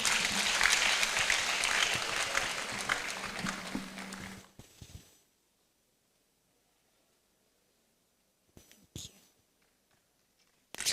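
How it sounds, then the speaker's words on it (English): Audience applause after a minister's address at a Supreme Court anniversary gathering in Ghana, a dense round of clapping for about four seconds that cuts off into near silence, with a couple of faint knocks afterward. "Please, a big round of applause."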